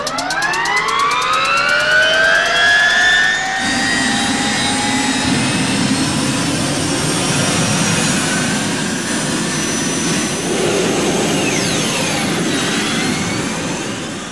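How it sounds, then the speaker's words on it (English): An MTT Y2K turbine-powered motorcycle spools up with a rising jet-like whine that settles into a loud, sustained turbine roar with shifting high-pitched tones. "the Y2K makes a sound signature unlike anything else on wheels"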